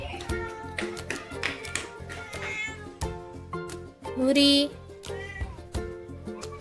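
A small kitten meows repeatedly in short, high, insistent cries close by, while someone talks and calls to it between the meows.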